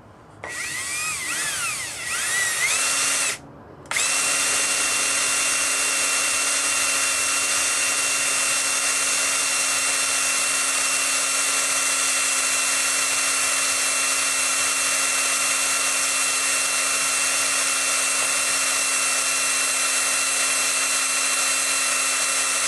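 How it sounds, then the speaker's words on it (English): A steady high-pitched mechanical whine from a power drill spinning a Cox model engine to start it, beginning after a brief stop and holding loud and constant without pause. "let's try the drill real quick"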